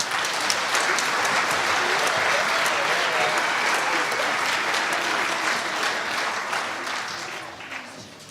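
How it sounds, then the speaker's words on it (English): Audience at an elementary school winter concert applauding for student speakers: dense, sustained clapping from a full room that gradually tapers off at the end. "could we please have a round of applause for all of our student speakers from tonight?"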